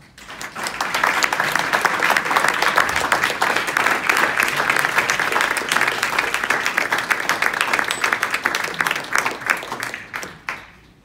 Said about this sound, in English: So please welcome their work with your applause.